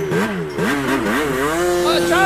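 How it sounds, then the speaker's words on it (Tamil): A motorcycle engine revs and pulls away in a staged radio drama effect, its pitch rising and falling through gear changes before settling into a steady drone, loud and close, with a voice speaking over it. "சார் பாருங்க சார், பைக் தான போகுது சார்."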